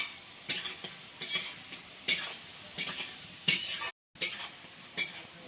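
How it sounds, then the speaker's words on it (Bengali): Cut potatoes fry in a home kitchen pan, a low sizzle broken by regular sharp metal spatula scrapes and clinks against the pan, about one per second, close and clear. "এই আলুগুলো ভেজে নেব"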